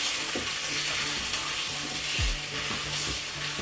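Mustard being stirred into a sizzling pork and sage pot pie filling in a pan, a steady frying hiss with a few soft scraping strokes of the spoon, close and even.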